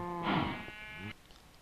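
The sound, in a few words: sheep bleating in Minecraft, from a video game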